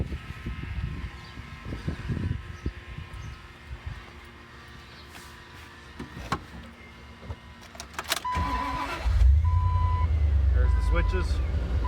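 An onboard Sanden air compressor mounted under a truck's hood, plumbed to a quick connect at the front bumper, kicks on near the end and runs as a loud, steady droning hum after quieter idle background and faint movement noises.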